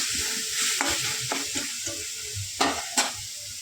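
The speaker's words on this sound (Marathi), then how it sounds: "बस साईडने तेल सुटते आता ह्याला, मसाल्याला" Spiced masala for dhaba-style whole masoor frying in oil until the oil separates, giving a steady sizzle and a few sharp spoon scrapes and clicks against the pan.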